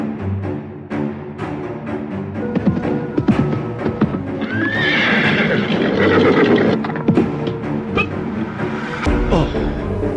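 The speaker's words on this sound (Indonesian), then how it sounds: "nampak seorang penunggang kuda menghampirinya" A horse carries its rider closer, with hooves clip-clopping and a loud, drawn-out neigh rising midway, over background music.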